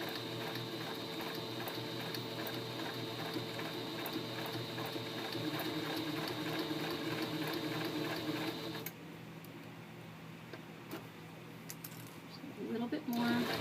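A sewing machine stitches bias tape onto a fabric seam, its steady mechanical whir running close and continuous for about nine seconds before it stops, leaving quieter handling sounds and a brief final clatter.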